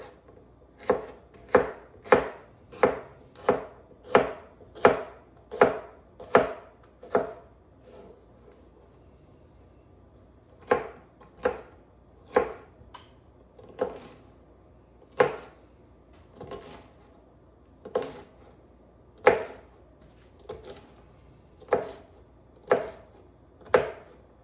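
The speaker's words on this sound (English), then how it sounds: "So dicing up the other half of a pepper if you got it." A knife dices half a pepper in a fast run of crisp, evenly spaced chops, then pauses and resumes with slower, separated strikes. Close and clear, about twenty cuts, with no talking.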